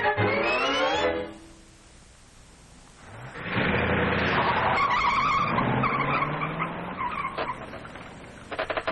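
Tires squeal in a long, loud skid as a car slides, followed by engine noise and scraping that trail off into clatter.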